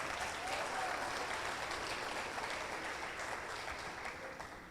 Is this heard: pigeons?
no